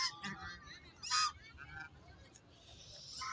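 Ducks being fed snacks in Allama Iqbal Park on a cold day give several loud, nasal honks in short bursts, close by, with brief gaps and faint background murmur between calls.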